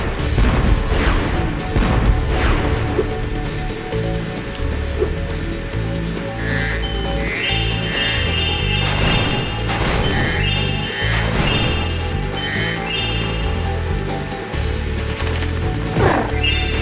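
TNT blows up and smashes objects in Spyro 3: Year of the Dragon, sending out repeated crashing impacts and clattering debris amid steady game music, with bursts of explosions and breaking sounds spread throughout.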